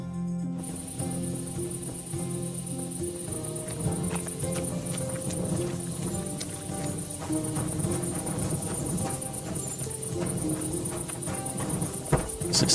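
Horse hooves clip-clop in Kingdom Come: Deliverance 2 under a constant high cricket-like night drone and ambient game music, with the steps moderately close and fairly regular.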